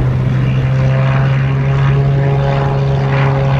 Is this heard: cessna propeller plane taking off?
yes